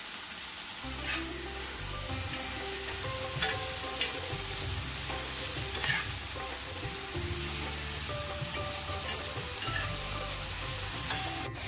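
Onion, tomato and capsicum sautéing in a covered pan for masala pav, a soft steady sizzle with occasional spatula knocks and scrapes against the pan, with no voices.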